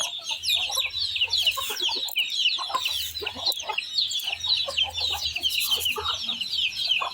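Bisaya native chickens cluck busily while waiting to be fed. A continuous, overlapping chorus of close, high clucks and chatter runs throughout with no voices.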